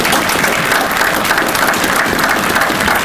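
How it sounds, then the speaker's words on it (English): Audience applause at a Veteran's Day presentation: dense, sustained clapping from a large crowd, steady and loud throughout with no voices over it. "let's give them a big warm applause."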